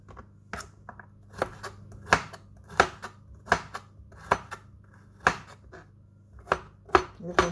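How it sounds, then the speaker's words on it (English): A knife chops garlic cloves into small pieces on a cutting board, sharp distinct knocks repeating at a steady, unhurried rhythm, close and clear, with a soft low hum underneath. "So I'm going to be cutting them a little bit smaller than what I've done with the rest."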